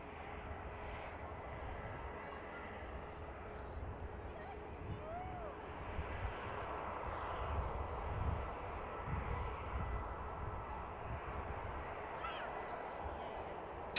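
An EasyJet Airbus A320 taxies at Manchester Airport, a steady low jet-engine rumble and whine heard from a distance, with muffled voices faintly beneath.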